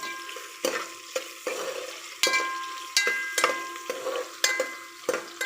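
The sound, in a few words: stirring onions in hot oil for chicken curry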